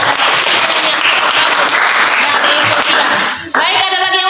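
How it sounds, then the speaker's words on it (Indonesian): A classroom of students bursts into loud, dense applause for a classmate, the clapping filling several seconds before cutting off abruptly as a voice speaks. "Oke, tepuk tangan untuk Sylvia"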